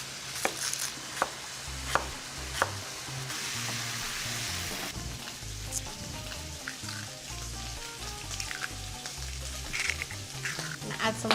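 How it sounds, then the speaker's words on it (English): A knife slices onion on a board in a few sharp, spaced chops while chorizo sizzles steadily in fat and a little oil in a nearby pan; a low hum sits underneath. "then I'm gonna slice my onion"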